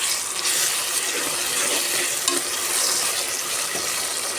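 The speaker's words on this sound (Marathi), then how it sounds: "आता मी टाकते त्यात आलं लसूणची पेस्ट" Ginger-garlic paste frying in a pan with softened tomatoes for a Konkan-style prawn rice, giving a steady, close, continuous sizzle with faint stirring scrapes throughout and no talking.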